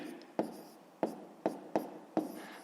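Five sharp taps and short scratches of a pen writing numbers by hand during a sixth-grade maths exercise, spaced irregularly, close and fairly quiet, with no speech.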